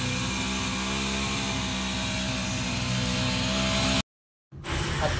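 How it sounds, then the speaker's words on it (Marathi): A vehicle engine runs steadily after being started, a loud continuous drone with a low hum, then cuts out briefly near the end before resuming. "गाडी आता चालू झालेली."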